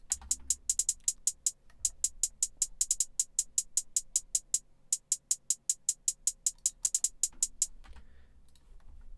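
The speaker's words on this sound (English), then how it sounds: "This is what the hi-hat and clap sound like." Rapid, steady ticking hi-hats run throughout in a fast pattern with brief stutters and a short gap, light clap accents mixed in, no voices.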